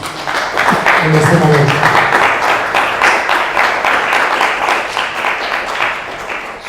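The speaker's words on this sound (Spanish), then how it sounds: "Yo creo que se merece un aplauso, Juan Carlos," An audience applauds at an illustrated talk, a dense, even wash of clapping lasting several seconds while a voice speaks briefly over the start.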